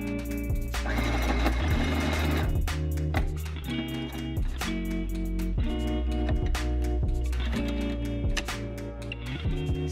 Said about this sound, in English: the final step is really just to sew all your pieces together